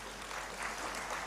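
Audience applause at a sustainability education conference plenary session, a brief, even burst of many hands clapping at moderate level with no other sound.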